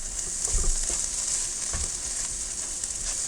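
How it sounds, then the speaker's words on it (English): Green beans, carrots and kale being stir-fried on high heat, with a loud, constant close-up hiss of frying and a few low thumps and scrapes of stirring, no voices. "I'll continue to cook everything on high for a couple minutes. Now we can start to mix all this together."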